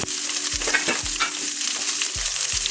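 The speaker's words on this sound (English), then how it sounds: "Then I'm going to add my steak and leave it to cook for about 5 minutes." Steak sears in a hot pan with a dense, loud hiss and sizzle running throughout, broken by a few low thumps.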